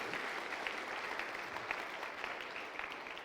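A congregation at a Yom Teruah celebration service applauds, faint, steady clapping from many hands continuing evenly throughout, heard at a distance without talk.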